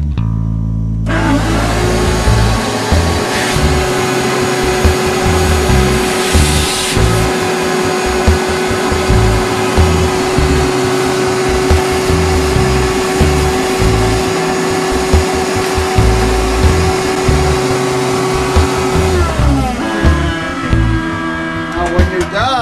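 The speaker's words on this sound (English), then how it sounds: "this is a 6-gallon shop vac, and it's kind of noisy." A 6-gallon shop vac runs loud and close in a woodworking shop, a steady roaring whine with a constant tone that starts abruptly and holds before winding down near the end.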